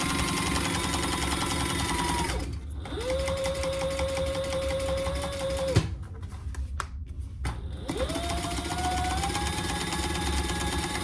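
A sewing machine basting layers of fabric in place runs in steady mechanical bursts with two short pauses, its motor hum and rapid needle stitching close and continuous, no talking.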